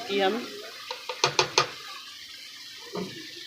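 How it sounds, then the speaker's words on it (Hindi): Tomatoes and green chillies drop into a hot pan for a potato and egg curry, setting off a soft sizzle and a quick run of four or five close stirring knocks, then a brief fainter clatter. "अब इसके अंदर हम डाल देंगे टमाटर और सब्ज़ मिर्चें इस तरीके से।"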